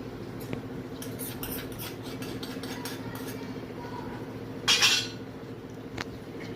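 A spoon stirs ghee-roasted cashews into a masala, giving scattered light metallic clinks and taps over a faint background hum, with one louder scraping clatter partway through.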